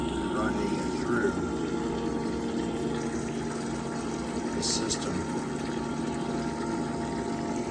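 A pump hums steadily as it circulates vinegar through a tankless water heater in a flushing setup, a continuous mechanical drone with liquid movement, while a person talks over it.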